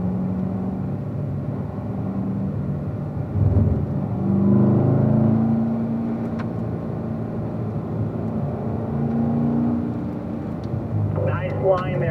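A car engine climbs at full throttle down a street toward 5,500 RPM, a loud steady drone rising in pitch, with a voice talking over it.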